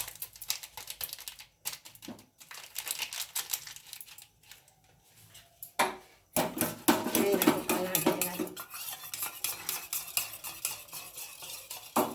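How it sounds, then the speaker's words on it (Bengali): Food colouring is stirred into patishapta batter in a bowl with rapid scraping and clinking of a spoon against the container, in busy bursts with brief pauses, close and fairly loud, no talk. "দেখো আমি একটু ফুড কালার দিয়ে গুলে নিচ্ছি"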